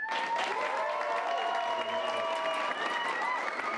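Applause from the audience at a Portland improv comedy shootout show, a continuous even clapping bed with sustained tones and some voices running through it.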